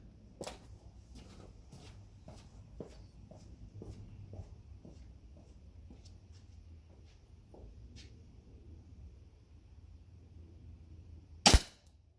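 Shots from a G&G SMC 9 gas blowback airsoft gun fired in a steady run of about a dozen sharp, evenly spaced pops at 10 meters, followed by one louder, close crack near the end.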